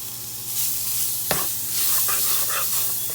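Onion sautéing in brown turkey-wing gravy with crushed bay leaves, a steady sizzle with a clear stirring scrape partway through and softer spoon clinks after, close and without talk.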